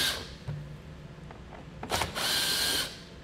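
A socket wrench with a 5.5mm socket removes screws from the under panel of a 2021 Ford EcoSport, giving brief close ratcheting clicks and then a longer burst of rapid mechanical ratcheting.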